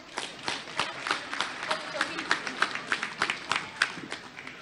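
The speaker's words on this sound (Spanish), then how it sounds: "Le recibimos con fuertes aplausos" Audience clapping at a school inauguration event in Bolivia, a steady run of claps rising and falling in loud bursts throughout, with crowd voices mixed in.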